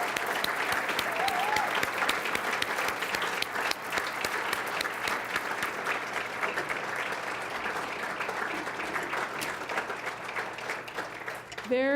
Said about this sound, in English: maybe we should just give a big round of applause to each of the award recipients,